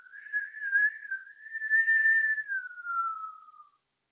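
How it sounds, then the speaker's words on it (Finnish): A long, steady whistled exhale through pursed lips during a Kundalini yoga breathing exercise, one sustained tone that wavers slightly in pitch and trails off, close and alone. "Ja nyt ulos suun kautta viheltäen."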